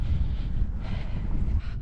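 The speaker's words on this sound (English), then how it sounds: "It's quite windy and exposed up here." Strong gusts buffet the microphone at an exposed hilltop viewpoint on a day hike outside London, a loud rumbling wind roar that surges and dips, with no voices.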